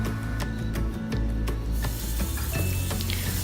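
A tablespoon of oil and two tablespoons of salted butter melting together in a pot for popcorn, a steady close sizzle and hum dotted with small ticks and pops throughout.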